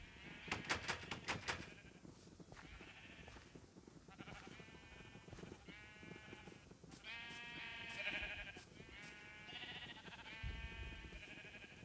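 Minecraft sheep bleat repeatedly in short wavering calls, several overlapping at close range, with a quick burst of clicky steps near the start.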